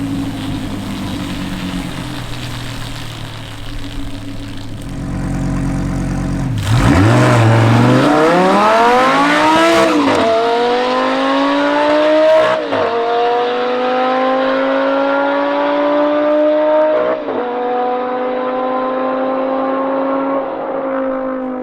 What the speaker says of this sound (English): Trevor's V10 sounds so good